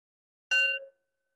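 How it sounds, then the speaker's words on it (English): A meditation bell rings once over a Zoom call with original sound off, a single clear bright strike with a short, clipped decay, heard alone. "So here's the bell."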